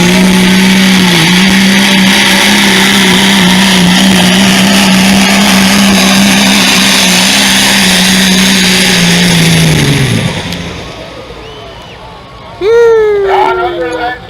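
A turbocharged pulling tractor screams at high RPM through a long, loud, sustained pull at a Washington County AG Expo tractor pull, then cuts off abruptly, leaving crowd noise and a brief whistling rise near the end.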